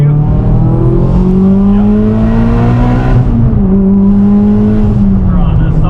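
A Mitsubishi EVO X turbo engine runs without boost control, with the blow-off valve unhooked and the wastegate connected directly, holding a loud steady idle with a droning tone that dips slightly midway; one short word is spoken.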